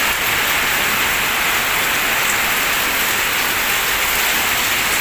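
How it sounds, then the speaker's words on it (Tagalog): Heavy rain pours down in Al Ahsa, Saudi Arabia, a dense, loud, unbroken hiss, drumming steadily on surfaces nearby with no voices. "Ayan na, ang lakas ng ulan."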